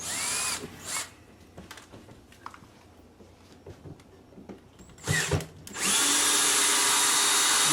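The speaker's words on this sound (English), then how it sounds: "I'm just going to run screws like 1 5/8 through each corner here" A power drill drives 1 5/8-inch screws into the corners of kitchen upper cabinets. There are short whirring bursts near the start and around five seconds, then a loud sustained run to the end.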